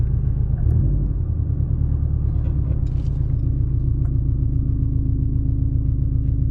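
A flex fuel Subaru WRX STI lines up at Sacramento Speedway against a Ford Fusion for a drag race, its engine giving a loud, steady low rumble that holds through the whole stretch with slight surges.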